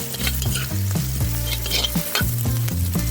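Chunks of carrot sizzle and fry in a pot for Hungarian bograch goulash while a utensil stirs them, sharp scraping strokes over a constant close hiss, with no talking.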